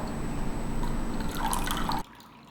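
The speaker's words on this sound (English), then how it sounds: "And now I'm going to pour in some chilled water." Chilled water is poured into a lightly beaten egg for tempura batter, a steady splashing stream for about two seconds that stops abruptly, close and clear with no talk.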